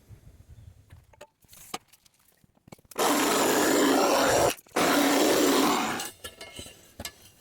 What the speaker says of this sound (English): without having to go buy any new blades or anything, it's the sawzall for the win